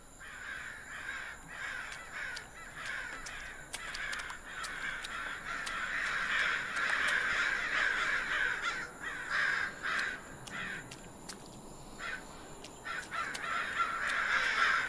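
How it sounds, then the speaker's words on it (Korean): In the Korean horror game Araha: Curse of Yareta, a flock of crows caws harshly and repeatedly for the whole stretch. The calls overlap in an irregular, steady chorus over a faint ambient backdrop, with no speech. "아 시끄럽다 까마귀들아."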